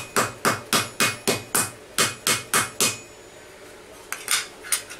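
Hammer strikes on a steel armour edge resting on an anvil, about ten sharp ringing metallic blows in a steady rhythm, a pause, then a few more, close and loud with no talking.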